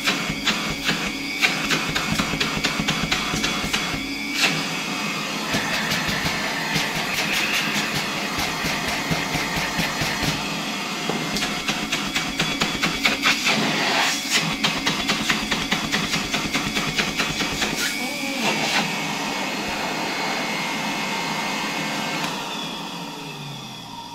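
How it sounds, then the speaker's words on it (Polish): A 1959 Gamma II vacuum cleaner runs steadily and smoothly with a continuous motor whine and faint rattling, close and alone, fading slightly at the end. "Ten odkurzacz, przypominam, z 1959 roku chodzi naprawdę fajnie, cichutko, płynnie."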